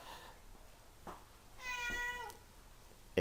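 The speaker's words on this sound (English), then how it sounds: "cat just walked in, so let me get rid of the cat" A cat meows once, a short harmonic cry, close by in a quiet room with faint background noise.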